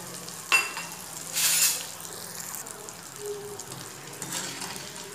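Jackfruit pieces fry in hot oil with a soft, steady sizzle and bubbling, broken by a sharp clink and a louder scraping stir of the pan.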